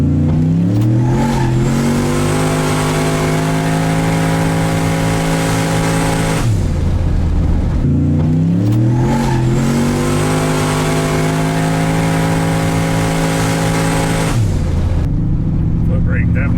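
A turbocharged LS-powered street truck launches hard off the foot brake, its loud engine roaring and climbing through the revs in two long pulls separated by a brief lull.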